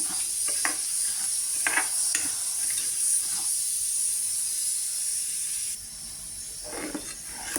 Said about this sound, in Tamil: பாவு காய்ச்சிக்கணும்.